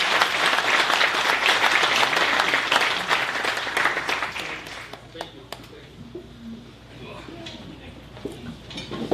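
An audience at a city's State of the City address applauds loudly and steadily for about five seconds. The clapping then fades into scattered claps, clinks and murmurs of the room.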